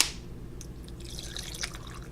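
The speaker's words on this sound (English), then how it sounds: "I'm going to add 1 cup of water to my chili." A cup of purified water is poured into a pot of chunky chili, making a brief soft splash followed by faint dripping and liquid sounds.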